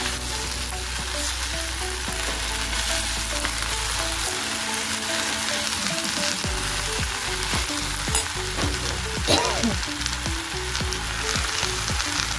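Vegetables sizzle steadily while frying in a pan for a Marathi bhaji. Several rhythmic scraping stirs run through the middle and end of the clip, and no one speaks.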